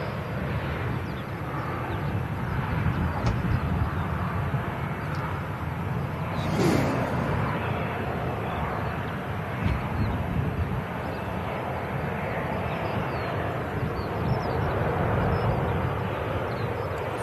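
An Airbus A320 arriving at Manchester Airport, its engines a steady broadband roar that stays loud and constant, with some wind rumble outdoors.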